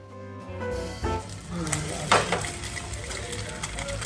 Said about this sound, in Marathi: मी यामध्ये आता मीठ आणि मसाला घालून ते परतणार आहे